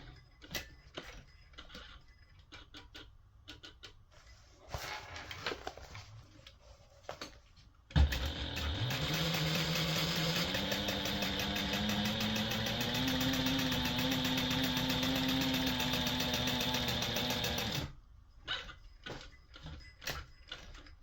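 A sewing machine stitching a binder cover pocket runs in one long, loud, steady whir for about ten seconds, ramping up at the start, with softer clicks and handling noises before and after.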